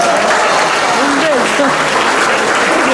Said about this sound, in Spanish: Así que vamos a recibir con fuertes palmas al señor Santos